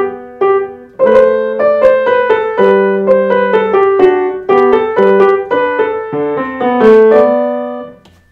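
A solo piano plays a lively phrase with both hands, quick decorative turns and trills over a lower line, clear and close.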